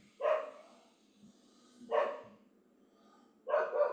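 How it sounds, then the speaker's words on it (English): Dogs bark three times indoors at spaced intervals, each a short moderately loud woof against a quiet, faintly humming room. "Those are my dogs barking."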